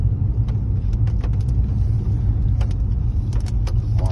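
A BMW M5 with a 600 hp engine climbs a slope, heard from inside the car as a steady, loud, low rumble with faint clicks and rattles over it.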